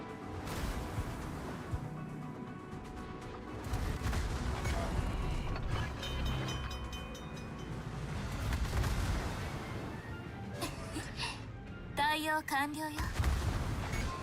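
Warship guns in World of Warships thunder in a steady barrage of deep, rumbling booms. Synthetic in-game callouts chirp near the end.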